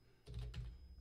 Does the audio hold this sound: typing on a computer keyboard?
yes